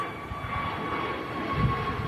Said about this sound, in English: Very distinct sound from them Neo engines, Leap 1A, and wow, the climb is crazy